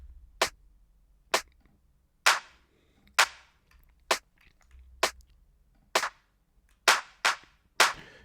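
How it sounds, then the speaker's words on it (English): Hand clap sample in a minimal deep tech beat: sharp, isolated clap hits spaced roughly a second apart, with a couple of quicker doubled hits near the end, dry and up front over a faint low thump. "Next, we just added a clap."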